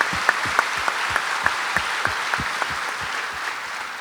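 An audience at a lecture on testimony in legal procedure applauds steadily and evenly throughout, a dense, fairly close wash of clapping with a few sharper individual claps standing out.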